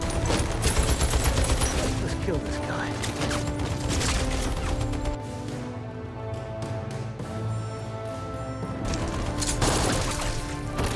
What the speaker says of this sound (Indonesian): Levon dan Jenny diberondong senapan tanpa henti